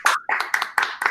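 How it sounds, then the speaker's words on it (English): A burst of hand clapping at a Passover Seder, several quick rhythmic claps close by, with faint voices mixed in. "Let's have a round of applause for our children"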